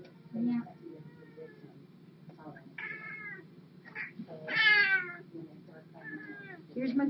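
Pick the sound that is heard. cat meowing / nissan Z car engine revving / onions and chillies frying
cat meowing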